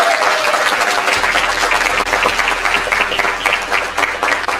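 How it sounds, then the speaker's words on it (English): An audience applauds at an end-of-year celebration for education scholars, loud sustained clapping from a large crowd filling the whole stretch, with a low steady hum underneath. "Go ahead and clap it up."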